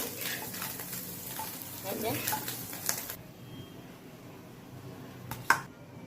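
Mustard oil sizzles steadily as small puti fish fry, a dense crackling hiss that drops away partway through, followed by quieter kitchen noise and a sharp clink near the end.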